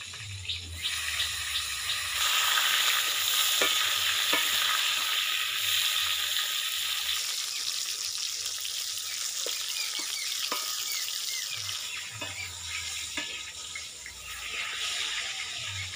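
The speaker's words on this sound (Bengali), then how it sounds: "পটল ভাজার জন্য কড়াইতে দিয়ে দিচ্ছি সর্ষের তেল।" Pointed gourd fries in mustard oil in a kadai, giving a continuous close sizzle with occasional soft clicks of stirring over sixteen seconds, with no talk.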